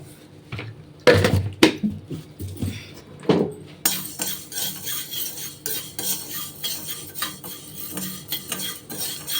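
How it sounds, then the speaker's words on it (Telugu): Fenugreek seeds stirred and dry-roasted in a pan for a dried mango pickle, a spoon scraping and clinking against the metal in busy repeated strokes over a crackling roast, close up with no talking. "ఇప్పుడు రెండు స్పూన్ల మెంతులు కూడా వేసి బాగా వేయించుకుందాము"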